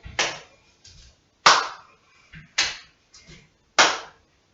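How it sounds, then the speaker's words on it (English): Hand claps during a sun salutation exercise land alone in a slow, regular rhythm: three sharp loud claps with softer, lighter taps between them. "Add in your clap if you want to"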